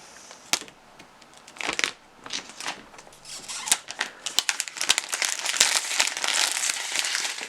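Crinkly plastic film and cardboard packaging of an iPhone 12 Pro Max box being handled and torn open, close-up crackles and rustles that start sparse and grow into a dense, continuous crumpling.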